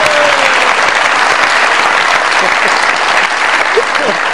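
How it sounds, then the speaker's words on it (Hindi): A studio audience claps and cheers in loud, sustained applause to welcome a guest onto a talk show set, a dense, even wash of clapping that stays steady throughout. "बहुत सारी तालियों में वेलकम कीजिएगा जनाब रुहेल असगर साहब"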